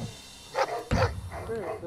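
Dogs barking at a house during a police search, a few loud close barks in quick succession mixed with shouting voices.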